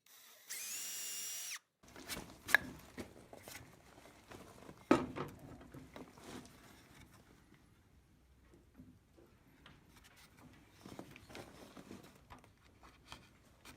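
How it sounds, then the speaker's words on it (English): A power drill with a 3/16 drill bit whirs briefly and loudly while making a potholder loom, then drilling and scraping noises continue with scattered clicks and taps. "And this is the 3/16 drill bit"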